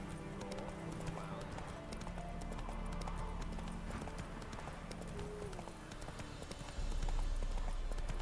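The horse Roach gallops in the video game Witcher 3 with a rapid, continuous clip-clop of hooves. The hoofbeats are steady and fairly faint, backed by low ambient game sound.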